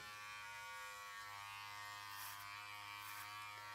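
Electric clippers buzzing steadily at close range while a head is shaved down to a 1/8 inch buzz cut, a faint even hum with slight scraping through the hair.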